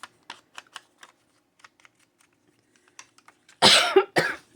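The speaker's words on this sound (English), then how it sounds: "I'm going to cough" A person gives two loud, close coughs near the end after a stretch of light, scattered keyboard-like taps at a craft desk in a quiet room.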